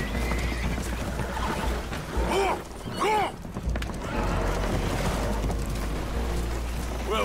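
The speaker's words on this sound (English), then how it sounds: "The horses are spooked" Spooked horses neighing and whinnying aboard a damaged, leaking boat in Red Dead Redemption 2, several rising whinnies over constant water and engine rumble, with voices nearby.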